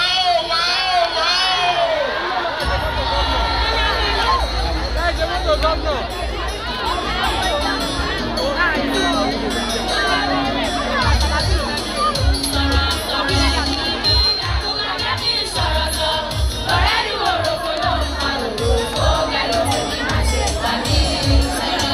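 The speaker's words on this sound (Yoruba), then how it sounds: "Ó yẹ kí ẹ pàtẹ́wọ́ dáadáa pariwo wá." A large crowd of children at a stage show in Ibadan shouts, cheers and whoops in a loud, continuous roar, with bursts of clapping and babble throughout.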